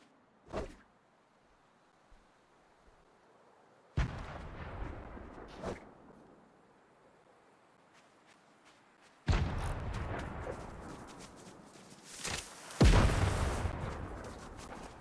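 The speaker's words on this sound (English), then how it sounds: "Somebody's got a sniper and they're shooting it." Sniper rifle shots ring out in Fortnite Battle Royale. Sharp, isolated reports come in irregular bursts, several of them loud and close, with quieter gaps between and a dense cluster of blasts near the end.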